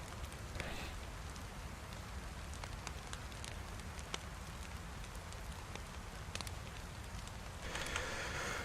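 Steady rain falling in the DayZ Livonia game world, a constant broadband hiss with scattered drop patters and taps, brightening slightly near the end.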